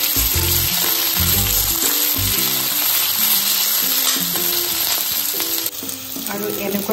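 Potatoes poured straight into a little hot oil burst into a loud, close, crackling sizzle that holds steady, with stirring scrapes and clatter over it.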